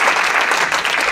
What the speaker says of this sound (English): How about a little applause for all that stuff?